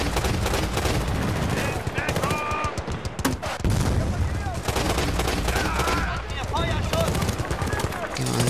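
A heavy mounted machine gun rattles in sustained loud bursts in Battlefield Bad Company 2, its dense rapid fire mixed with explosions and battlefield din, while someone talks over it.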